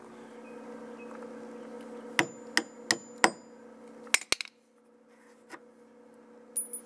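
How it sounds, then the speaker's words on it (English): Hammer blows on a steel punch knocking rivets out of a van running board: about eight sharp metallic strikes in two bursts, close and loud over a steady low machine hum. "I can use it as a punch and get those rivets out"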